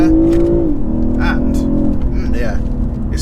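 A BMW 840i Gran Coupe accelerates hard with the dampers in their sport setting, a loud, steady engine drone from inside the cabin with one shift in pitch partway through, while someone talks over it.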